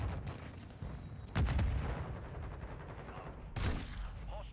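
Video game gunfire in Modern Warfare 2: dense rattling bursts with a couple of heavy, booming shots standing out over a continuous noisy battle din, fairly loud and unbroken throughout.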